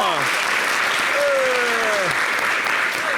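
Steady applause from an audience fills the space throughout, with a voice speaking over it.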